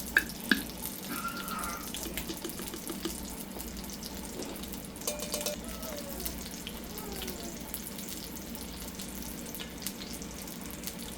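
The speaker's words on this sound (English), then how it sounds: "Both of these pots keep on bubbling up." Soft, continuous bubbling and simmering from pots of chicken, shrimp and sausage gumbo on a stove, faint and steady with occasional small clinks.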